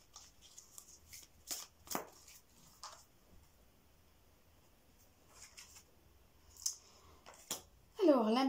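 Tarot cards shuffled and drawn by hand in a quiet room, a string of soft riffling flicks and papery snaps spaced irregularly, close up, with a voice starting to speak briefly at the end.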